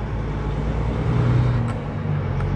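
A Kenworth truck with an 18-speed transmission idles and runs in a steady, loud diesel drone from inside the cab during a gear change, with no break in the engine sound.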